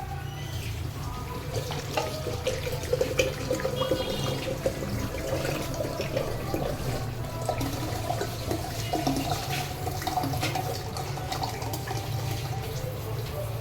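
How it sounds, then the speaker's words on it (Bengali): Cold water poured into a glass for a virgin mojito, a steady continuous splashing pour running throughout, close and fairly loud with light kitchen clatter. "এর মধ্যে ঠান্ডা জল দিয়ে দেবো।"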